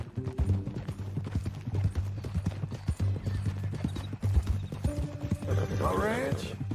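Horse hooves clip-clop at a steady walking pace in Red Dead Redemption 2, close and clear under a low ambient hum, with a whinny near the end and no voices.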